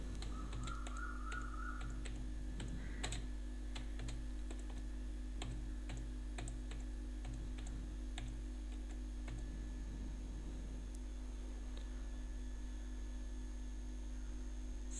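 Keys on a computer keyboard tap in quiet bursts of scattered clicks at close range, over a steady electrical hum, with faint crow caws somewhere in the background.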